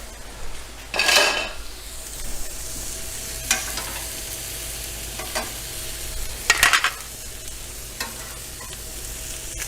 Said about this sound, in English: Trying to get a good sear on that.